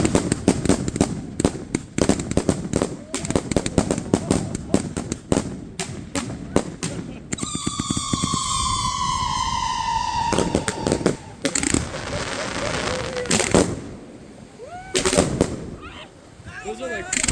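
Fourth of July fireworks go off in a dense run of sharp cracks and pops, followed by whistling rockets that rise and burst, with scattered crackle fading out and people talking in the background.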